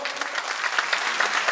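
An audience at a 2014 Taiwan cosplay contest, a World Cosplay Summit preliminary, claps warmly in a dense, even burst of applause with no voice over it.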